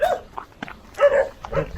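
A Belgian Malinois barks a few short times nearby, with sharp yips and a brief whimper between them.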